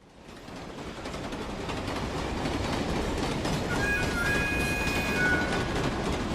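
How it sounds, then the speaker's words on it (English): A train rolls steadily in Team Fortress 2, its broadband rumble and rail noise building and holding loud, with thin metallic squeal tones briefly riding on top near the end. "they take off in their new working train"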